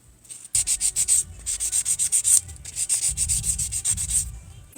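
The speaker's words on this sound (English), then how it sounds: "we're gonna take a sanding block, and then we're just gonna file the top layer of the nails." Rapid rhythmic rasping strokes of a sanding block filing nails, close and crisp, in quick bursts with a short pause between them.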